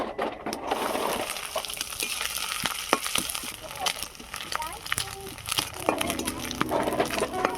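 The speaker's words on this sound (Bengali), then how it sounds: "এবারে নারকেলটা ভেজে নেব।" Coconut frying in hot mustard oil in a pan, a steady crackling sizzle with sharp clinks and scrapes from stirring, fairly close and continuous throughout.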